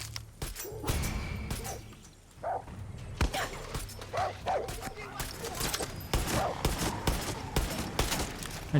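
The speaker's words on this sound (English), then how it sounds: "And dogs are really tough." Dogs bark and yelp in a Far Cry 6 combat scene, sharp repeated barks mixed with gunfire-like cracks and scuffling, fairly loud and dense throughout, with a person talking over the action.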